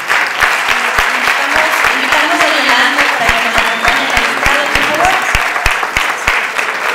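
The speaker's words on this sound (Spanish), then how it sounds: "Un aplauso para ella." A film festival closing audience applauds the lead actress in a loud, continuous burst of clapping with a steady crowd murmur underneath and a few voices calling out, sustained for several seconds.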